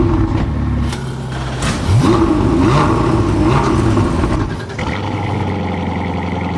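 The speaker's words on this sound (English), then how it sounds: "Drivers, start your engines!" Race car engines start up and rev together at Daytona before the Rolex 24, loud and close. Deep mechanical growls rise in pitch and hold, with a blend of several engines and crowd ambience behind.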